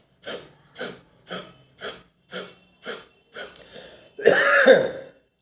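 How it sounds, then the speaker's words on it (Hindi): Seven short, evenly spaced coughs or throat-clearing bursts, followed by a louder, longer, harsher burst at the end. "देखो खांसी तुरंत आई है"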